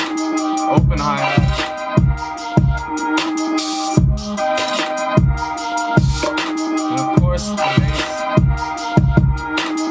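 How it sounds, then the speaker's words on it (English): Open hi-hat hits wash over a full electronic beat with pounding kicks and synth chords, repeating in a steady driving groove. "Open hi-hat."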